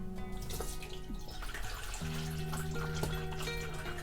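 Homemade sloe gin is gently poured through a sieve, a steady trickling and dripping splash running throughout over a faint musical background.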